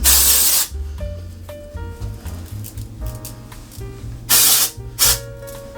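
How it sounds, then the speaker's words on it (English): Two bursts of dry texturizing hair spray hiss loudly from an aerosol, one at the start and another short pair near the end, with quiet clicks and rustling between them. "that dry texturizing spray, shake it, and go into the roots"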